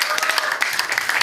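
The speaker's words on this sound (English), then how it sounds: "Round of applause for Cav." An audience at a music industry panel talk claps briefly in a short burst of applause. It sounds moderately close, with no speech over it.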